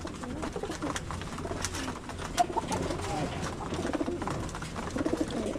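Pigeons coo repeatedly inside a loft, soft throaty calls overlapping at close range against faint background noise.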